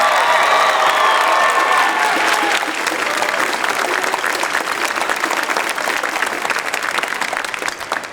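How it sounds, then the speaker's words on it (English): An indoor concert audience of a marching band breaks into strong, sustained applause, a loud, dense clapping mixed with some crowd noise and a few cheers that holds steady throughout. "Give her a huge round of applause."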